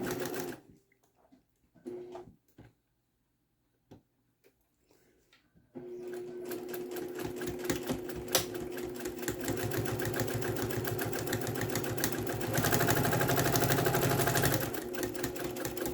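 A sewing machine stitches doll diaper fabric, starting after a few quiet seconds with sparse handling clicks, then running in a loud, continuous whirring rattle that speeds up briefly near the end.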